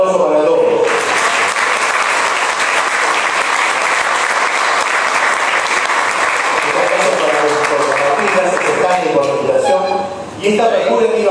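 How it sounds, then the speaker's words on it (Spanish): Loud, sustained audience applause fills a live rock bar concert, a dense wash of clapping that holds steady for several seconds before briefly dipping near the end. "Les pedimos un fuerte aplauso para todos."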